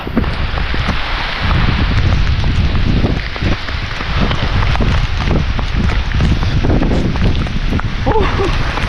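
Steady wind gusting against the microphone with rain pattering throughout, loud and continuous, with a voice briefly speaking under the noise.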